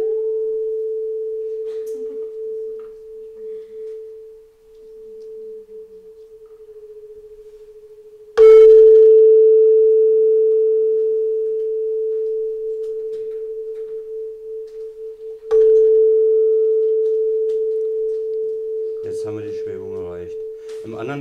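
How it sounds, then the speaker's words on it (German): A tuning fork rings a pure, steady tone, then an electronic tone generator joins in near the same pitch, giving a loud sustained hum with slow swelling and fading beats; brief clicks and a short voice fragment appear near the end. "Ich habe hier eine Stimmgabel. Man hört den Ton. Und ich werde jetzt einen Tongenerator anmachen"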